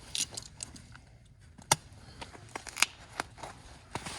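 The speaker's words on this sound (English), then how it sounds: "Cut the old broken end hook off." Snips and small clicks come from cutting off the old broken end hook of a maple sap line in the woods, a few sharp close cuts amid faint rustling.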